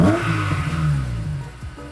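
A Honda S2000 engine revs up hard close by, its pitch climbing and then falling away with a mechanical whir and light clatter, a single loud rev-and-drop with no voices.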